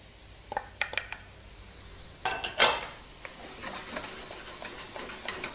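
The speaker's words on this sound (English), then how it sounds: "Shaking my pan and scooping back." A pan of carrots and mushrooms is shaken on the stove, giving a burst of metallic rattling and clatter midway, with light scraping and tapping before and after at close range.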